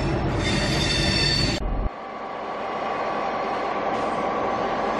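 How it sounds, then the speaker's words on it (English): A Spirit of the Outback passenger train at Brisbane, a slim consist of coach cars, gives a loud, close metallic wheel squeal that cuts off and settles into a steady rolling rumble. "Spirit of the Outback is about to depart for Longwich from Brisbane."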